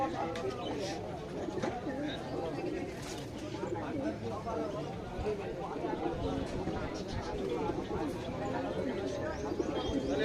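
Saharanpuri pigeons at a busy bird market coo softly in the background, low and intermittent beneath steady chatter and people talking nearby.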